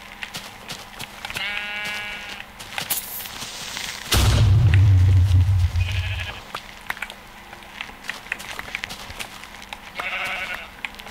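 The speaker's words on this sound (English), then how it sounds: "I heard a sheep." Sheep in Minecraft bleating in short wavering calls, repeated several times, interrupted by a loud bassy creeper explosion rumble in the middle.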